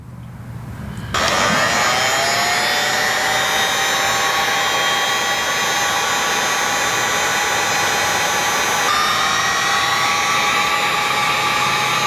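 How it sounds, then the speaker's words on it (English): A heat gun kicks on and runs with a loud, steady whirring blow as it shrinks heat shrink tubing over custom tail light wiring on a Honda CB500F, alone and close. "Let's heat shrink this sucker."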